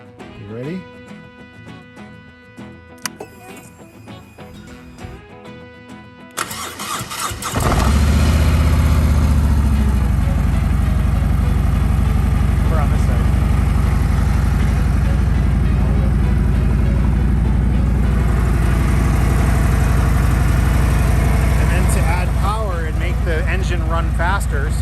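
A vehicle engine on a truck-day display cranks and catches, then settles into a loud, steady close idle, with a person talking before it starts.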